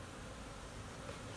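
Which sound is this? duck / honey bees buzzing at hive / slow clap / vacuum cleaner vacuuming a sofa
honey bees buzzing at hive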